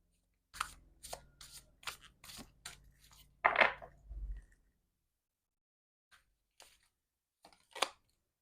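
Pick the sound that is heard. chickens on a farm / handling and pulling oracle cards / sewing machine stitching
handling and pulling oracle cards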